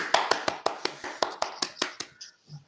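A single person clapping at the close of an online presentation, about a dozen crisp, evenly paced claps close to the microphone that stop after roughly two seconds.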